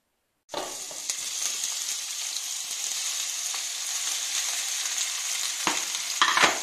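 Onion, pepper and garlic fry in extra virgin olive oil for a Galician empanada filling, giving a steady, close, continuous sizzle that starts abruptly and runs unbroken with a few crackling pops near the end.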